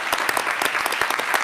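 Applause after a task force's final presentation: a brief burst of close, dense clapping from a small audience, lively and even, with no talking.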